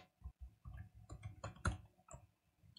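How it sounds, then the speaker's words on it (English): Light keystrokes on a computer keyboard as a Linux command is typed, a quiet scattering of soft clicks at an uneven pace, close and faint. "just type ./, and then you type the name of the file"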